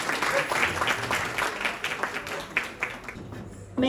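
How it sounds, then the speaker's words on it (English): Applause for a judge at the Gargi Awards Function 2021, a steady spread of clapping from an audience that fills the clip and cuts off sharply near the end, with a voice briefly audible. "Big round of applause for Susan"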